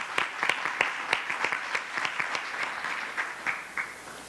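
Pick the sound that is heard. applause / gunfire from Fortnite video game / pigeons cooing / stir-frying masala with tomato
applause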